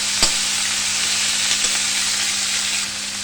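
Pumpkin, potato and Malabar spinach stems fried in a pan as dry spices go in, giving a constant bright sizzle with a couple of sharp clinks from the utensil, heard up close with no voices.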